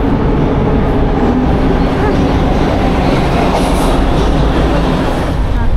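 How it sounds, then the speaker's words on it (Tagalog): Train pulling into a station in Canada, a loud steady rumble and rattle of wheels on rails filling the whole stretch, with faint voices underneath. "Ay, ayan na rin pala yung tren natin, no?"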